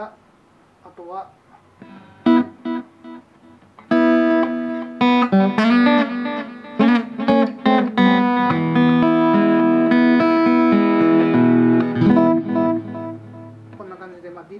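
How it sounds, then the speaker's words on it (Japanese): Guitar notes and chords through a Roland delay effect ring out with echoing repeats trailing behind them, the sound thick and spacious, playing steadily for most of the stretch. "こんな感じで、まあ、ディレイも入ってますね。"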